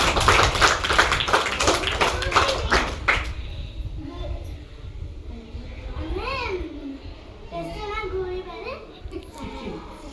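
A group of children clapping together in quick rhythmic bursts during a school millet-awareness activity, loud at first, then fading as children's voices chatter and a kid speaks over the scene.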